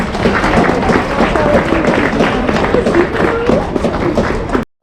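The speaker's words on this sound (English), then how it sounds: "Big hand of applause." An audience at a gala awards night claps for 14- and 15-year-old skaters who qualified for the Alberta team, a fairly loud, steady burst of hand-clapping with thumps mixed in, ending abruptly.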